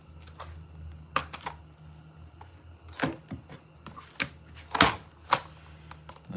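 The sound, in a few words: setting a rivet on a leather logger jotter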